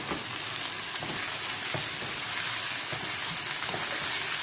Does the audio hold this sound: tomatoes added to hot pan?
yes